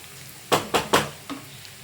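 Onions sautéing in a pan for egg thokku: a few sharp bursts of stirring sizzle, three close together then a softer one, over a low frying hiss.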